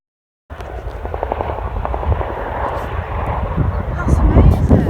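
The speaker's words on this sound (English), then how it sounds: "Just seen a Chinook fly in." Chinook helicopter flying in overhead, a rising, throbbing rotor roar with rhythmic low thumps that grows louder as it approaches outdoors.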